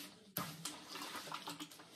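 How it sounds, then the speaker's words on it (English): Water poured into a bucket while mixing ceramic glaze in a pottery studio, a sudden splashing gush that starts sharply and runs on with gurgling bursts, quiet and close. "Pour a little bit of water in your bucket,"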